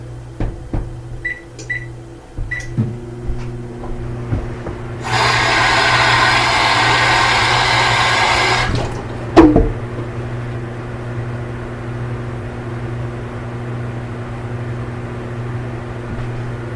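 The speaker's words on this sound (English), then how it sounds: "Just put that in the microwave and soften that up." A steady mechanical hum runs for a few seconds, ends with a sharp beep, and a low background drone continues afterward.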